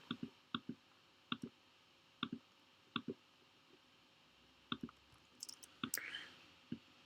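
A computer mouse clicks sharply and close by, about a dozen separate taps spread irregularly across a quiet background, sometimes in quick pairs.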